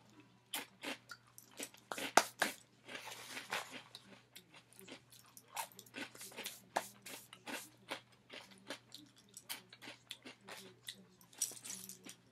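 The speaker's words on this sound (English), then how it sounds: "I gotta take a chip crunch" Chips being crunched close to the mic, a long run of sharp bites and chewing crunches in irregular clusters, loud and dry against a quiet low hum.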